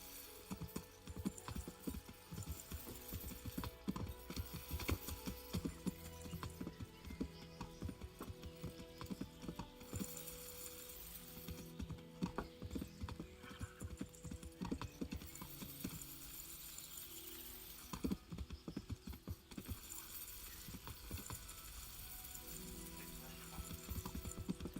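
Horse hooves clip-clop steadily in Kingdom Come: Deliverance, a continuous rhythmic trot running for the whole stretch at a fairly quiet level over a busy game soundscape with music, while occasional speech rises underneath.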